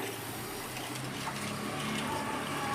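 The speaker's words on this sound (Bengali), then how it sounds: "দেখুন, চিনির রসটা আমার ফুটে উঠেছে। এই সময় আমি দিয়ে দিলাম ঘি।" Sugar syrup at a rolling boil as ghee is added, for chana dal motichur laddu, a dense continuous bubbling hiss heard up close, with no speech.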